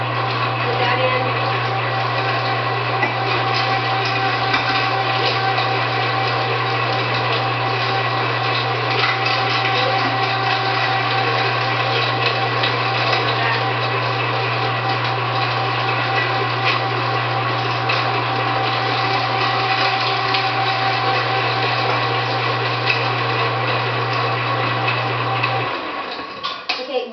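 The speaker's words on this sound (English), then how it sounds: "And I'm grinding a lot of meat" An electric meat grinder works through raw meat for homemade Bengal cat food, giving a steady, loud motor drone with a low hum that runs for about 25 seconds before cutting off.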